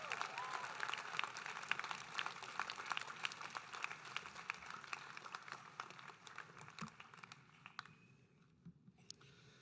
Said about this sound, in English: Can we give all of our performers a round of applause